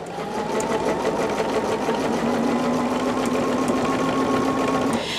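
A sewing machine stitches down the binding on a finished quilt, running in a steady, continuous hum at close range from start to finish with no pauses.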